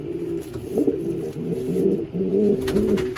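A pigeon hen coos steadily in a loft, her low, throaty calls rolling in close, repeated phrases with no talk over them.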